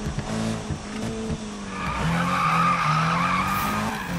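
Mazda RX-7 drifting in a racing video game, tires skidding and squealing steadily over a revving engine, loud and continuous throughout.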